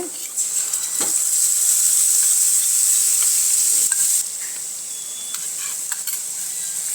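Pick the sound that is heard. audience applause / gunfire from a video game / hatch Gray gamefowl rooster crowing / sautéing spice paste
sautéing spice paste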